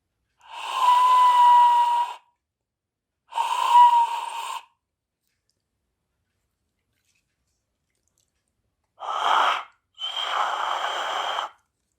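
Four separate blasts of a harsh, breathy 3D-printed Aztec death whistle, two long screeching tones, a pause, then two more rougher bursts, close and loud.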